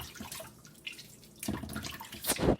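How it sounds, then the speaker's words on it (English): Fish steak rinsed with water and lime by hand, giving soft splashes and drips that build to a louder slosh near the end, close by with no talk. "So, I'm going to wash this with some lime."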